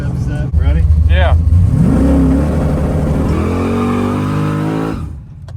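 A drag race car launching off the trans brake with the two-step set, its engine roaring loud and close before the note climbs and holds through a long pull, then cuts off, with voices over it.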